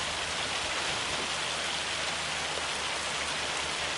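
Rain in the farming video game Farming Simulator 25: a dense, steady hiss of rainfall pattering on surfaces, loud and continuous with no voices.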